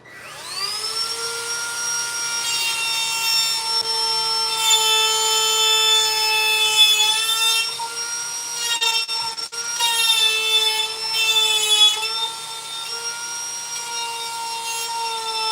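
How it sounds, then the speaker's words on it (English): Dremel rotary tool cutting during apartment finishing work, a close, loud, steady high-pitched whine that holds for the whole stretch with slight pitch dips under load and a brief interruption midway. "What I'll do, I'll just bring that Dremel in."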